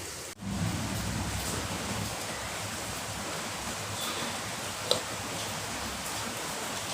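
Steady rain falling outside a verandah, a constant soft broadband hiss with one faint tick near the end and no voices.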